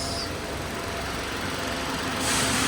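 A car engine idling smoothly inside a garage, a steady, even low hum with no roughness or vibration, holding constant throughout with a slight rise in broadband noise near the end.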